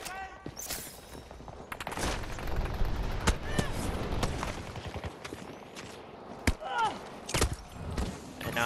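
Battlefield 2042 firefight, with sharp individual gunshots and short automatic bursts snapping at irregular intervals, some close and loud, others more distant, over a rumbling battlefield background.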